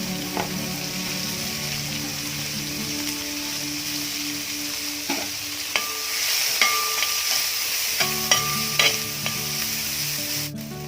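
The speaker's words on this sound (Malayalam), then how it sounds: "ഇനി നമ്മൾ ഈ എണ്ണയിലിട്ട് തന്നെ ഒരു സവോള ചെറുതായി അരിഞ്ഞതാണ്" Finely chopped large onion fries in hot oil for a Kerala-style chicken macaroni, giving a steady close sizzle with spoon stirring and scraping knocks, and no talk.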